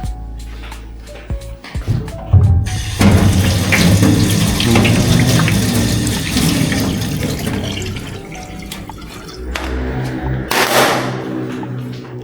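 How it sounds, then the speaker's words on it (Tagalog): Water runs hard from a kitchen tap as food is rinsed and washed in the sink. The stream is loud and close, its tone shifting as the flow strikes the item and the basin, with no talk. "hugasan natin ulit ito"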